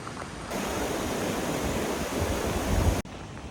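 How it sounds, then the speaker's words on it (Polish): A flowing mountain stream near Colorado Springs gives a steady, close rush of broadband water noise that swells slightly toward the end before cutting off abruptly. "mamy tutaj taki piękny potok"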